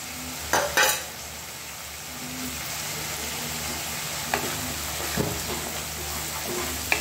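Marinated chicken for a green hariyali curry sizzles steadily in a pan, with a few scraping stirs of a spatula cutting in near the start and again around the middle; no one speaks.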